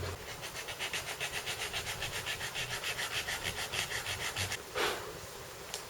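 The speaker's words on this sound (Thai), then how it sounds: "มาขัดกันเบอร์สองร้อยแปดสิบนะครับ" A bass guitar neck is sanded by hand with 280-grit sandpaper, steady rhythmic back-and-forth rasping strokes close up for several seconds, followed by a brief louder scrape.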